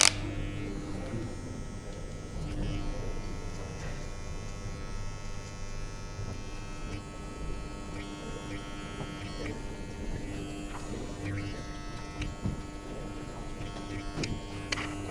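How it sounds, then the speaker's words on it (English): Electric hair clippers without guards buzz steadily up close while fading a taper haircut, a constant humming drone with faint shifts and small clicks as the blades move through hair. "grab this machine that I use without guards to fade out the final line"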